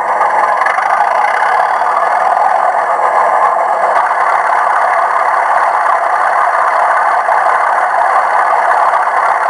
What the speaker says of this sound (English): Number 8, which is thrash. Now I'm gonna keep the engine stationary so we can hear what this is gonna be like.